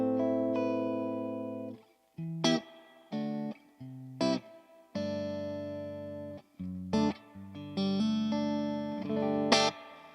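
An electric guitar played clean through a RedPlate Dumble-style amplifier rings out sustained chords and single notes with sharp attacks and brief pauses, clear and alone at moderate volume.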